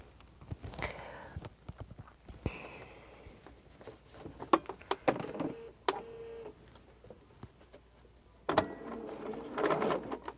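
A sewing machine chain piecing quilt blocks runs in short, uneven bursts separated by pauses, fairly faint, with scattered clicks and handling noises between runs.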